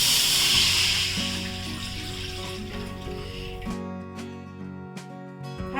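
Water poured into a thick-bottomed kadhai holding wheat chik (starch paste) for kurdai, a steady splashing, sizzling pour that runs loud for several seconds and then gives way to quieter clinks and settling.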